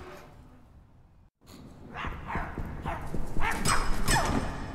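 Several dog barks from the horror game My Friendly Neighborhood, loud and fairly close, coming in a quick series over a low game ambience after a brief silent gap.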